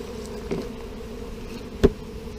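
Bees buzz around hive frames in a bee yard: a steady, close insect hum with a couple of louder passes as individual bees fly near.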